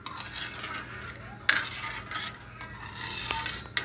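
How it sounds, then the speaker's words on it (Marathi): A spoon stirs dahi kadhi, a yogurt and gram-flour curry, in a metal pot, giving soft scraping and swishing with a sharp clink near the middle and a few lighter taps, fairly quiet and close. "हलवत काय राहायचं, हलवल्यामुळे ना ती अशी फाटत नाही"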